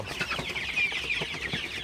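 Sonali super hybrid chickens cluck softly and repeatedly nearby while drinking water, with short scratchy calls over a low farmyard background.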